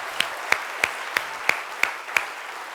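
A handful of slow, evenly spaced hand claps, about seven sharp strikes, from a small audience at a 2011 college convocation welcoming a new boat captain; the claps stand alone against quiet room noise.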